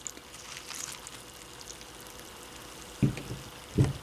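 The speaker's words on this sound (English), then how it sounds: "Now let's pour the milk on." Milk poured onto cereal in a bowl, a faint soft trickling splash near the microphone in short bursts, with two louder pours toward the end, no talking.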